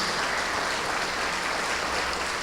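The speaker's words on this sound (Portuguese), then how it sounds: "Vamos aplaudir ao nosso Senhor Jesus." A church congregation applauds together, making a dense, steady wash of clapping that stays loud and even from start to finish, with no voices on top.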